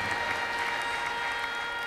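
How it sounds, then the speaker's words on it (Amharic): Congregation clapping at a church service, a steady dense wash of applause filling the space without pause. "ከዚህ በላይ እልልታ ጭብጨባ ያለው ሰው በእግዚአብሔር ፊት ለእግዚአብሔር ክብር ያጨብጭቡ"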